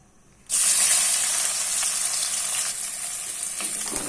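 Sliced onions hit hot oil in a pan for desi-style taro curry, bursting into a loud, steady sizzle that stays close and continuous with no talking.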